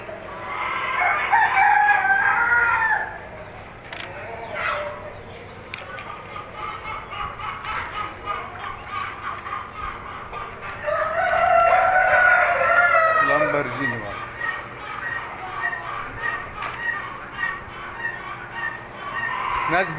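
An Indian-breed rooster crows loudly twice, long drawn-out calls, with softer clucking and background chatter between them.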